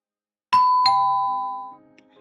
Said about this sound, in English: Just then, the doorbell rings right on schedule.